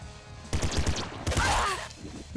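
A super splinter gun fires in the game Nuclear Throne, two quick bursts of sharp crackling shots in rapid succession, close and fairly loud, followed by a faint ringing tail.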